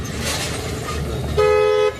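A single steady car horn blares for about half a second over the low rumble of an engine and road noise, in traffic during a driving lesson.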